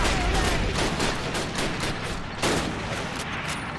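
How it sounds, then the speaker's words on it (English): Sustained battle gunfire in Call of Duty: United Offensive: rapid, repeated shots and bursts pile up into a steady, dense clatter of combat with no voices over it. "Keep shooting"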